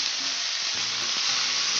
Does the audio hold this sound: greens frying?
yes